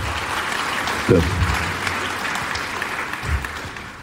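A studio audience breaks into applause on cue after a correct answer in a Hungarian TV quiz, the clapping starting sharply and holding steady as a broad wash, with a brief spoken word over it.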